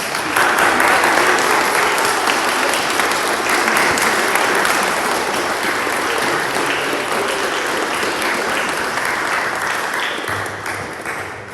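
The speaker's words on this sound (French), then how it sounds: "je vous invite à l'applaudir" Protestant congregation applauding during a Sunday service in Mietesheim, welcoming a newly presented member: a loud, full, steady round of clapping from many people that holds for over ten seconds before fading slightly.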